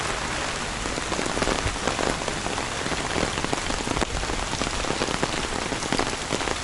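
Steady rain falling on a street in Da Nang, Vietnam, a dense, continuous patter of drops hitting hard surfaces, loud and close throughout, with no talking.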